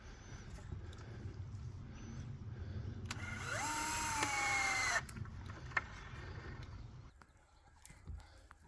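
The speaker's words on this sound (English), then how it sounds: "These are 3-inch screws, so I'm going to have to run them at an angle" A power drill drives 3-inch screws in at an angle while building a pig shelter, a rising whine that holds for about two seconds amid outdoor background noise.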